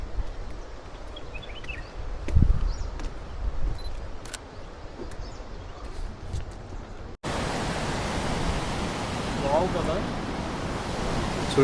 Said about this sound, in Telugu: the water is falling from the dam